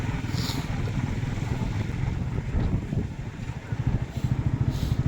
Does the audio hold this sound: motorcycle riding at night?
yes